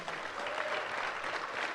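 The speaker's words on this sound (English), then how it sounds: "let's give both of these young men a warm round of applause" A luncheon crowd gives a warm, steady round of applause for two young football players at a conference press event, dense and continuous clapping from a large audience with no speech over it.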